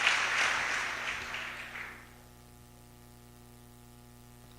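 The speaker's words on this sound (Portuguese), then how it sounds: "Começa a aplaudir e glorificar o nome do Senhor Jesus." A church congregation applauds in a broad, dense burst of clapping that fades out after about two seconds, leaving only a low electrical hum.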